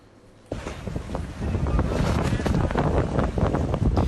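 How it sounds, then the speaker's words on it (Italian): Strong, gusty wind buffets the microphone while choppy water surges around a gondola carrying four passengers near St Mark's Square in Venice during rough weather. The noise is loud and rises after a quiet opening. "Il vento impetuoso e il moto ondoso scuotono una gondola con 4 passeggeri a bordo"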